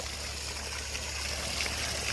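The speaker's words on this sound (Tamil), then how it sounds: "ஒரு ஒரு அடி தூரத்தில் போய் தண்ணி விழுந்துக்கிட்டு இருக்குது" Water gushes steadily and faintly from the outlet pipe of a borewell pumped by a 3000W BLDC motor near Erode, a continuous splashing wash with no voices.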